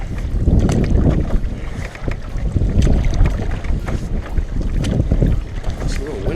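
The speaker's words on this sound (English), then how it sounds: "It's a little windy across here, that's for sure." Wind blows across River Canard while canoeing on a creek, rushing and buffeting the microphone in loud, continuous gusts with faint paddle and water sounds underneath.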